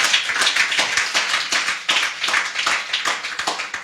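A church congregation claps to acclaim the Lord, a dense, lively patter of many hands beating in quick, uneven rhythm, steady and close for a few seconds without voices.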